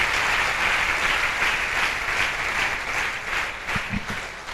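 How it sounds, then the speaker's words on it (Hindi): A standing audience claps and cheers in a dense, continuous wave of applause at a Safe Shop business seminar in Bhopal, staying loud and steady throughout with no talking over it. "दिल से ताली खड़े होकर"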